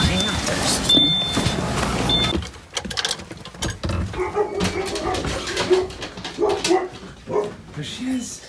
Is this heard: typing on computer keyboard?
no